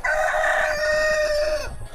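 A rooster lets out one long crow at a native chicken farm with tubular-frame construction, a strong sustained call ringing out clearly over the low farmyard background and trailing off near the end.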